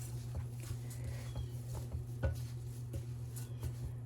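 A spoon stirring dry ingredients in a mixing bowl for cookies, quiet repeated scraping taps against the bowl in an irregular rhythm under a steady low hum.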